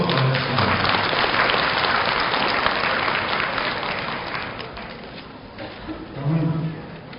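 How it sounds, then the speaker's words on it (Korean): Steady, dense applause from a large audience greets a guest at a university graduation ceremony, filling the hall for several seconds before easing off a little. "박수로 맞아주십니다."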